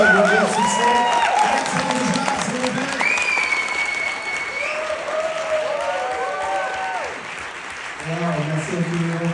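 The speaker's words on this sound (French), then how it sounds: "qu'on prenne l'énergie qui nous reste avec une grosse main d'applaudissements" Conference audience applauding in a hall, clapping spread through the whole stretch with cheers and speech-like voices rising over it, loudest at the start and again near the end.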